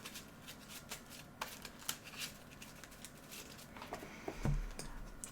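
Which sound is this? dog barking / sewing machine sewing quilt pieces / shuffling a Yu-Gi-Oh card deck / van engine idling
shuffling a Yu-Gi-Oh card deck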